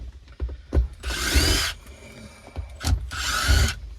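Power drill driving screws while parts come off an old stick-shift column during engine work in a garage, two loud sustained whirring bursts with short clicks and knocks in between, close by.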